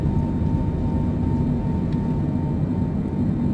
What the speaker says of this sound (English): V1, pull the yoke and take off.